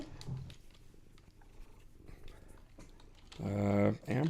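Hammy, a slobbery pet cat, purrs softly and steadily under a voice, then a louder, closer burst of purring and mouth sounds rises near the end.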